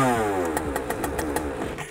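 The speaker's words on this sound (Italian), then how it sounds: "ci dà un secondo o due e poi parte in automatico il motore" A Jetsurf Race DFI 2022 motorized surfboard engine starts automatically, catching with a rising whine and settling into a close, steady buzzing run with rhythmic pulses.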